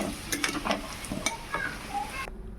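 Potatoes frying in hot oil, a bright spattering sizzle broken by sharp stirring scrapes and clinks, stopping suddenly just before the end.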